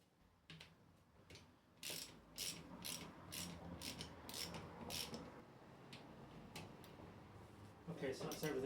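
A ratchet tightens bolts on a Triumph Sprint ST 955i motorcycle during a sprocket and rear caliper job, a close, fast run of metallic clicking pawl strokes in a steady rhythm, then a short pause and a final burst.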